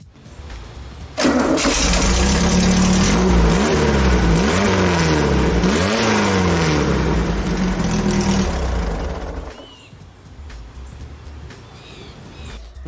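A junkyard-built motorcycle with a Volkswagen engine cranks, catches and fires up, then is revved repeatedly in surging swells for several seconds before dropping back to a rough, quieter idle; close and loud, no speech.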